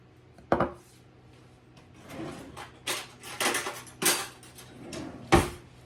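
Quick rise yeast dumped into milk and stirred, producing several close, distinct knocks and scrapes of a utensil against a bowl in irregular bursts.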